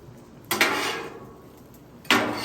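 Beef pasta gets mixed with metal utensils on a 36-inch Blackstone griddle, two distinct scraping clanks of metal on the steel surface, each trailing off into a softer sizzle-like wash, with a quiet pause between.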